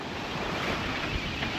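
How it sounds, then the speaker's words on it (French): Ocean swell and surf washing against a sailboat crossing open sea from Guadeloupe to Antigua in light wind, a steady, loud broadband rush of water with wind buffeting the microphone, no voices. "avec la houle qui arrive, genre, Corail se met à faire des bonds et à taper"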